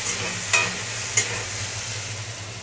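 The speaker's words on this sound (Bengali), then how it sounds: "এখন আমি ওই তেলেই আগে থেকে কেটে রাখা আলু ভেজে নেব।" Pre-cut potatoes fry in hot oil with a steady close sizzle, and two brief clinks of a utensil stirring against the pan.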